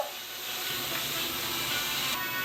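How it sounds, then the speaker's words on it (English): Potatoes fry in oil in a pan for homemade chicken shawarma, giving a steady, soft, continuous sizzling hiss with no talking over it. "keep frying the potatoes. Okay. Adding some oil."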